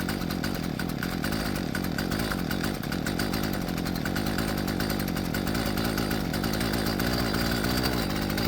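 A Husqvarna 128LD weedeater's small two-stroke engine runs with its idle speed raised after a carburetor replacement, a steady buzzing drone close to the microphone with no talk.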